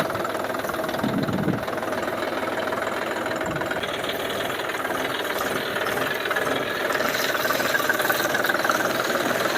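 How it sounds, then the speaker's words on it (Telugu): A new tractor drives slowly over a spread chickpea crop laid on tarpaulins to thresh it, its engine a steady mid-low chugging drone with a knocking idle character, constant and fairly close, no talk. "ఇప్పుడు మనోడు అయితే ట్రాక్టర్ తీస్తాడు, తొక్కిస్తాడు."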